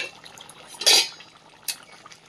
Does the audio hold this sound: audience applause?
no